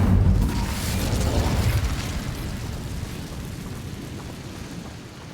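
The Incendio fire spell is cast in Hogwarts Legacy as a loud whooshing burst of flame that blooms at the start and fades slowly into a rumbling roar. No one speaks.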